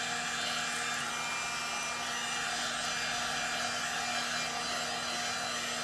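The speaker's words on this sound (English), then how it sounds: "So you don't want to put the heat gun too close, because this is glycerin" A heat gun blows steadily while shrink-wrapping glycerin soap, giving a constant close airy roar with a faint hum underneath and no break in level.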